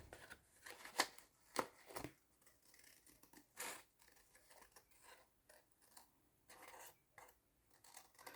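Scissors snip through a paper book page in a series of quiet, close, irregular cuts, with some paper rustling between the snips and no talking.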